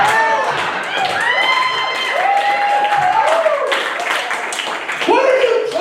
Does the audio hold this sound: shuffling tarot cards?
no